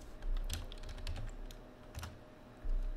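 Typing on a computer keyboard while configuring a Cisco router, with bursts of clicking keystrokes in uneven runs, close and moderately loud, no talking.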